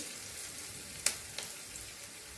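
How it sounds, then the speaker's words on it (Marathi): Onions being sautéed in a pan give a faint, steady frying hiss, broken by one sharp click and a softer tap of a utensil, close and quiet with no talking. "छान लाल होईपर्यंत परतून घ्यायचं कांदा झाला आहे आपला परतून"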